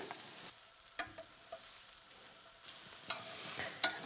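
Ginger frying with red, yellow and green capsicums in a pan: faint steady sizzle with a few soft stirring clicks and scrapes, quiet and close, no talk.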